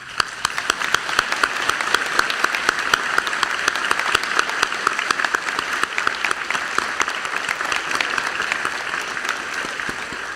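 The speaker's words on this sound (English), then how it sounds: "join me in a round of applause for those who I have just mentioned" Sustained applause from a large audience at a high school graduation ceremony, with dense steady clapping from seated and standing seniors and guests filling the hall at even loudness for the whole stretch.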